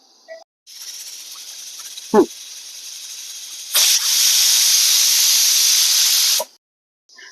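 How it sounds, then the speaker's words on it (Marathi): A pressure cooker whistles: a steady hiss of escaping steam builds, then a louder continuous blast of released pressure lasts a few seconds before cutting off abruptly. "दोन शिट्ट्या झाल्या कुकरच्या"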